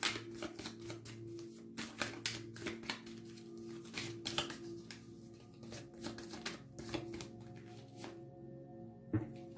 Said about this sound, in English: need to shuffle